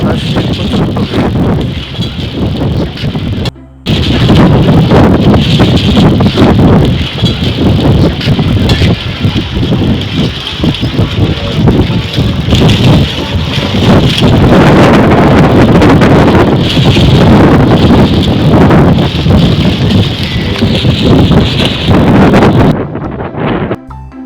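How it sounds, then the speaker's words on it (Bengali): Strong gusting wind ahead of an approaching Kalbaishakhi thunderstorm roars and buffets the microphone almost continuously for over twenty seconds, with only one brief lull. "বাতাসে প্রচণ্ড বেগ।"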